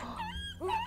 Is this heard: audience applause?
no